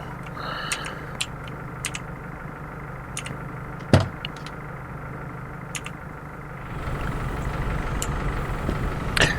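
A fire truck in the firefighting simulation game Emergency Call 112 rumbles with a steady engine drone while driving, punctuated by a few sharp clicks and one louder knock, and the engine noise swells toward the end.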